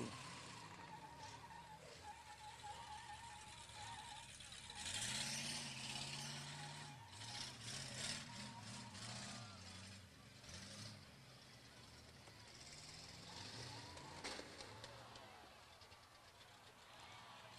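Demolition derby cars at a county fair rev their engines and drive around, with a car on a flat tire among them. Engine roars rise and fall, there are bangs of impact, and the sound is fairly distant under a PA announcer's voice.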